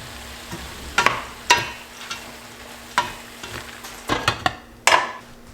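Dal and potatoes cooking in a pan over medium heat, a soft sizzle broken by repeated scraping and clinking stirs at an uneven rhythm, close and fairly loud, with no talking.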